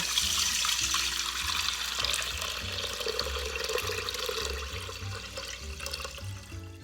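Water gushes and pours steadily into an Instant Pot pressure cooker over washed rice, splashing and gurgling as it fills, then gradually eases.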